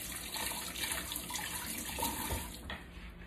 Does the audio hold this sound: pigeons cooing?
no